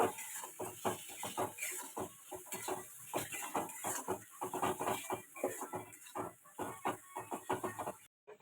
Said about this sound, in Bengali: এবার খানিকক্ষণ মশলাটা কষে নেব